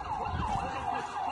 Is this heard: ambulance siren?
yes